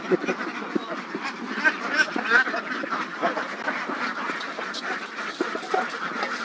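A large flock of ducks, more than five hundred on a farm struck by duck plague, quacks continuously in a dense, overlapping chorus close by, with occasional voices underneath.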